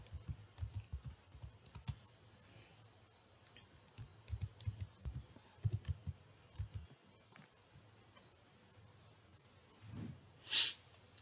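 Fingers tap on a computer keyboard while an online job application form is filled in, with bursts of quiet, fairly close keystrokes, pauses between them, and a few louder clicks near the end.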